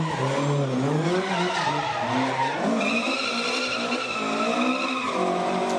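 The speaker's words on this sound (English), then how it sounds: "spinning the car and proceeding to entertain the crowd" A historic rally car spins at the final corner of a Rally Isle of Man stage, its tyres screeching and skidding continuously while the engine revs rise and fall, loud and close throughout.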